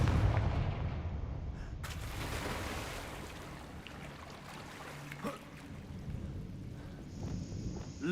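Fire spell explosions in the video game Hogwarts Legacy give a booming blast at the start, followed by crackling, rumbling aftermath and scattered game effects that fade over several seconds.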